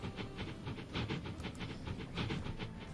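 A train pulling into Keynsham station in Transport Fever 2, a rhythmic clickety-clack of wheels over rail joints repeating steadily under a soft hiss, moderately close and fairly quiet, with no talk.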